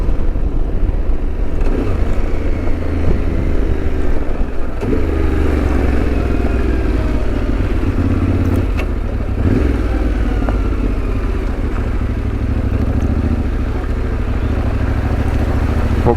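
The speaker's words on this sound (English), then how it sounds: "Let's see how she does in water today." A Yamaha Tenere 700 motorcycle rides through a flooded road, its engine droning loud and steady under splashing and clattering water for the whole stretch, with no talk.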